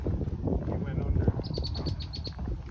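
A rapid series of high chirping calls from red-winged blackbirds rings out over background murmur and rustling on a Connecticut trail, starting partway through.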